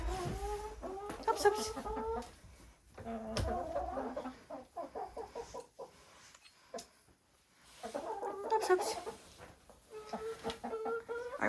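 Chickens clucking and murmuring as they settle onto a roosting bar for the night, several birds making overlapping soft clucks and trills in bursts with quiet gaps, nearby, with a brief spoken word.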